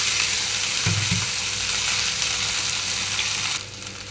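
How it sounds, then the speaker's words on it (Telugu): Cut ivy gourd (tindora) pieces drop into hot tempering oil and fry with a loud, continuous sizzle, a couple of clattering thumps as they land early on, and the hiss easing slightly toward the end. "కట్ చేసి పెట్టుకున్న దొండకాయ ముక్కలన్నీ ఇందులోకి వేస్తున్నాను"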